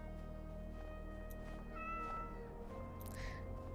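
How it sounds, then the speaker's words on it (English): A cat meows a couple of times in the Skyrim video game, the short mewing calls rising over a steady hum of game music and ambience. "Oh, a kitty. Can we pet the kitty?"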